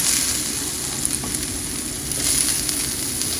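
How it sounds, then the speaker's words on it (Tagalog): Onion, garlic and ginger sauté in a hot pan with oil, giving a steady close sizzle and crackle throughout, with faint scraping and no talking. "Umpisa natin ang ating sibuyas, bawang, at sama na rin natin ang ating luya."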